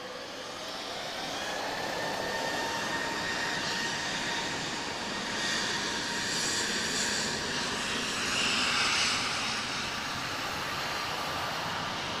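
A Star Air jet with two CF6 engines takes off at Lisbon Airport, a loud continuous roar with broad rumbling and hissing that swells slightly and holds steady throughout, with no one talking.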